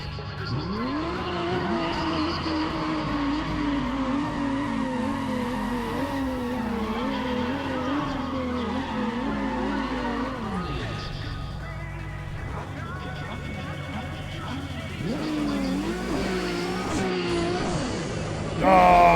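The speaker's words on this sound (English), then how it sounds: "I love the sound of this car" Race car engine revving hard through gear changes, with tires squealing and skidding in the Need for Speed ProStreet racing game, loud and continuous, dropping off briefly before roaring back.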